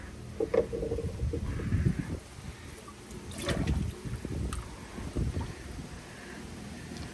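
A net dips into a backyard tub of mixed guppies, giving a few soft splashes and water swirls amid steady outdoor wind noise, with no voices.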